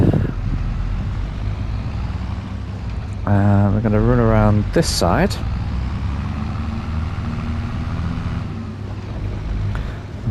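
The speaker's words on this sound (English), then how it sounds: "I'm just going to park this tractor up here so it's easy access out." A tractor engine in the farming game Moss Valley drones as a steady low rumble throughout, with a brief chime-like effect midway and someone talking over it.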